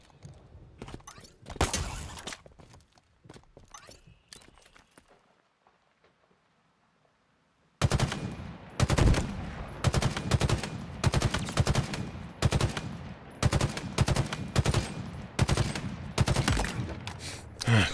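Gunfire in the first-person shooter Halo Infinite: scattered shots with quiet gaps, then dense, loud bursts of rapid automatic fire that keep repeating close by.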